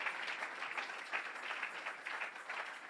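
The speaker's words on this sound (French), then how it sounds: "Acclamons le Seigneur. Let's clap for the Lord." A church congregation claps for the Lord during a French-language service, a steady, fairly distant wash of many hands clapping together for about three seconds with no speech over it.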